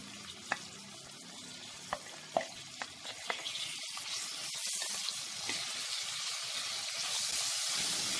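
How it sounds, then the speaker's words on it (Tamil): Onions and green chillies sauté in a pan, a few sharp spoon taps and scrapes early on, then a steady frying hiss that grows louder and fuller toward the end, close by with no speech. "வெங்காயமும் பச்சை மிளகாயும் போட்டு நம்ம நல்லா இப்போ வதக்க போகிறோம்."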